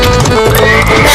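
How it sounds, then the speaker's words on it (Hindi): A horse pulling a horse cart in an animated comedy story whinnies loudly with quick clip-clopping hooves, close and dense in a brief burst. "घोड़ा भागने लगा"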